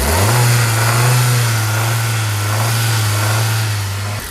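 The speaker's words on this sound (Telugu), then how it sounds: "ఒకసారి ఇంజిన్ నాయిస్ చూసుకోండి ఫ్రెండ్స్" A Hyundai i10 Sportz hatchback engine runs close by with a steady low hum, revving briefly at the start before settling into an even idle.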